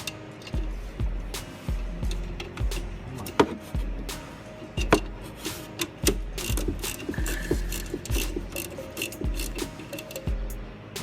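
A ratchet wrench clicks in quick bursts while loosening half-inch bolts on a ZR120 motorcycle, close and loud, with metallic clanks and tool handling between the ratcheting runs.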